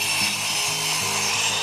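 A miter saw cuts through timber rafters for a verandah build, a loud, close grinding and rasping bite with a few rhythmic strokes and pitch shifts across the brief cut.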